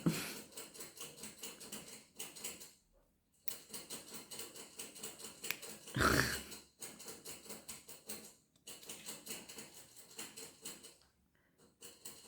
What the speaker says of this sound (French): ce que vous entendez, c'est un des cochons d'Inde qui boit